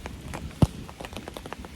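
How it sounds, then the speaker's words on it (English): Rain falls during a thunderstorm at a camping spot with a hammock, a faint, irregular patter of drops with one louder thump close by. "It's raining."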